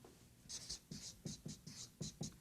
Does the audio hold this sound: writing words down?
yes